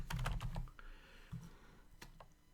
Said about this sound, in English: So I'll type in TBL percent.